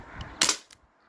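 Umarex Brodax airgun running on an HPA tank fires a single sharp, loud shot close by, followed by a brief faint click and quiet.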